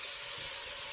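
Beef stew meat searing in a hot pan, giving a steady, bright sizzling hiss heard up close, continuous and without talk.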